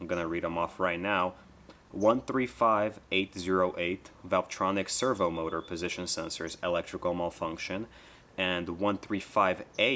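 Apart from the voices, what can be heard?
None of the usual background noises is heard.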